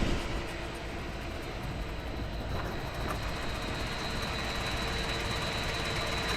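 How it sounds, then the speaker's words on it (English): Pump running to draw propane off a tank, a loud steady broadband roar with a constant mechanical hum, unbroken throughout with no voices. "we'll just turn the pump on and start doing that now"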